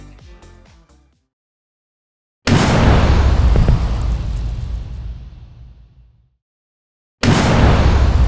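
An animated explosion sound effect: a brief fading tail gives way to silence, then a massive sudden boom whose roaring shockwave rumble decays over several seconds into silence before a second loud blast cuts in.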